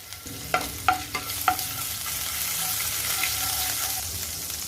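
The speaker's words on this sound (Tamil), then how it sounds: "இப்போ ஒரு கடாயில் எண்ணெய் விட்டுக்கிறேங்க. எண்ணெய் சூடானதுக்கப்புறம் இதில் இஞ்சி பூண்டு பேஸ்ட்டு," Ginger garlic paste frying in hot oil in a kadai makes a soft, steady sizzle, with a quick run of spoon scrapes and taps near the start.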